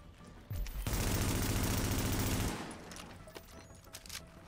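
Heavy gunfire in the video game The Division, with sniper fire in the fight, starts with a thump and becomes a sustained loud rapid volley for about two seconds before tapering into scattered lighter shots.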